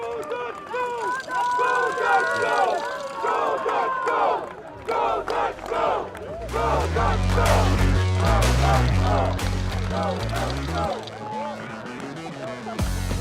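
Crowd noise at a youth U13 boys soccer final, with shouting and cheering voices, then a rising roar of overlapping crowd sound in the second half, fairly loud and close.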